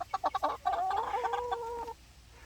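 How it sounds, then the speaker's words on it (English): Chickens in a backyard coop cluck in a quick burst of short calls, then one hen draws out a longer, wavering squawk; close and fairly loud, with no talk. "So as you can see, the chickens are all happy."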